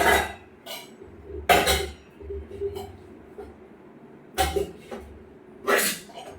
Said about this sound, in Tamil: தும்மெல்லாம் கண்ட்ரோல் பண்ண முடியாது